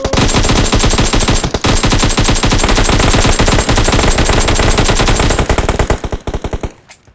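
Rapid automatic gunfire in the PUBG mobile zombie mode, long loud bursts of close shots with a brief pause, then tapering into scattered single shots before fading out.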